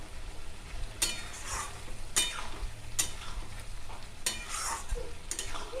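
Poppy seed paste stir-fried with raw mustard oil in a pan for aloo posto: a few distinct scraping spatula strokes about a second apart over a faint, steady sizzle, close and alone.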